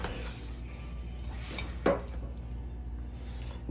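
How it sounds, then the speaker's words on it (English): Cut potato fries for oven baking are set onto a metal baking pan, producing soft scraping and light taps with one brief clack near the middle against low background hum. "You just take them and place them on the pan."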